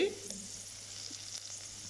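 Onion frying in a pan with ginger and garlic just added, a steady close sizzle with a brief stirring scrape near the start.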